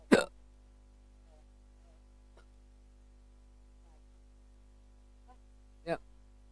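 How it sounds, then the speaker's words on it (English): A person hiccups twice, each one a sharp, close, fairly loud jolt, several seconds apart. Faint small noises and a low steady hum fill the quiet gap between them. "Got hiccups again."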